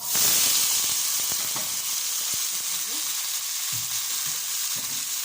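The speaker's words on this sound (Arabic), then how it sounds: "دي الزيتة بتاعتي اللي حطيتها للبسلة. طبعا هحط البسلة تتلوح" Peas hitting hot oil in a pan and being tossed, a loud burst of sizzle at first that settles into a steady close hiss, with scattered stirring scrapes and clicks.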